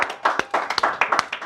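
Audience clapping in a studio setting, a short burst of sharp hand claps at an irregular rhythm, close and fairly loud, with no talk over it.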